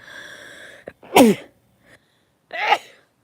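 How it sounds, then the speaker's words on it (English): A person sneezes twice: a small buildup, then a sharp loud sneeze, a pause, and a second forceful sneeze close to the mic. "I'm gonna fucking sneeze."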